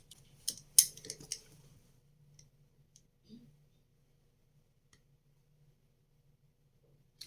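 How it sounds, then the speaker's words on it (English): Scissors snipping through a pen grip, a quick cluster of sharp cutting clicks near the start, then a few faint ticks over a quiet low hum. "we finna cut the grip now"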